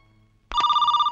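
A telephone bell in a Telugu film comedy scene starts ringing abruptly after a short quiet stretch, then keeps up a loud, close, steady trilling ring.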